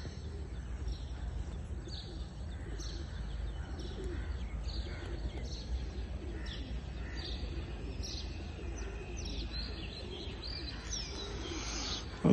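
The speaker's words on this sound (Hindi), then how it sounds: "तो उड़ गए कबूतर" Pigeons coo and chirp softly at a pigeon flying tournament after release, scattered calls heard against a steady low outdoor rumble and background noise.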